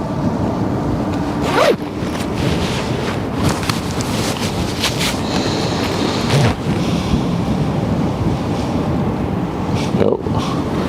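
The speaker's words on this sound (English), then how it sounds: "I'm gonna put on my jacket again." A jacket zipper is pulled outdoors on the windy Westerschelde shore in the Netherlands, with a few short ripping zips standing out close to the microphone over a constant rush of wind buffeting it.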